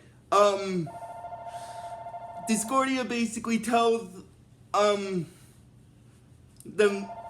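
A telephone rings with a steady electronic tone for a moment while a person talks over and around it in short bursts.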